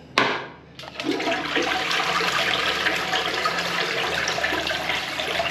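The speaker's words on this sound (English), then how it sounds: "Looks like a pretty strong toilet." A hotel bathroom toilet flushes nearby with a sharp click, then a loud, steady rushing swirl of water that keeps running without letting up.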